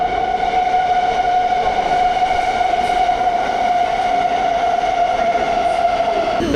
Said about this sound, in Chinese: 来了，就是这辆车。